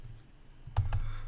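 Keys clacking on a computer keyboard as a single word is typed, several close, crisp taps in quick succession after a quiet stretch, nearby and alone.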